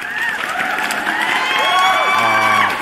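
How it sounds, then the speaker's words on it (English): A loud crowd cheers and whoops continuously, with high excited voices and shouts layered together and some clapping underneath. "Let me give you guys another round of applause."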